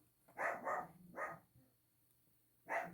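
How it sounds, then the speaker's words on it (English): A small dog barks from a craft room, several sharp yaps in quick succession, then a pause and one more bark, fairly close against a quiet room. "You have to excuse my little dog"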